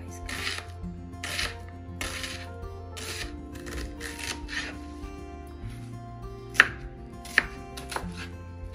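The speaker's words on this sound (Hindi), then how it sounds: "अब ये मैं अनियन काटने लगी हूँ।" A knife chopping onions on a cutting board in a home kitchen makes quick, close, rhythmic taps in short bursts, with two sharper knocks near the end.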